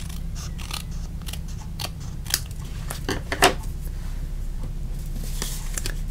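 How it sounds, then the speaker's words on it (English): A run of crisp, quick scissor snips cutting through card, close up over a low steady hum, with one sharper clip near the middle. "you can do that with your scissors"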